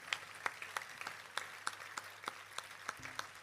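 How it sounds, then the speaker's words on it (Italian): Sparse, scattered handclaps from a small concert audience, faint and distant, with individual claps clearly separated in an irregular rhythm. "a cui va veramente un grande applauso."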